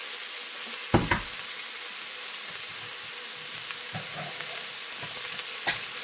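Coconut milk being poured and stirred into green lentil dahl in a pot, a soft steady sizzle with a few sharp clacks of a spoon against the pot, close and moderately loud with no talk.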